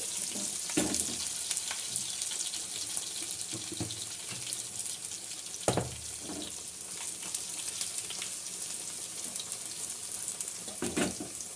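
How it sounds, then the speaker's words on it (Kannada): Garlic sizzles in hot oil with mustard seeds in a pan, a steady crackling hiss broken by occasional louder scrapes and knocks as it is stirred. "ಇವಾಗ ಬೆಳ್ಳುಳ್ಳಿನ ಹಾಕ್ಕೊಳ್ಳಿ, ಮಿಕ್ಸ್ ಮಾಡ್ಕೊಳ್ಳಿ."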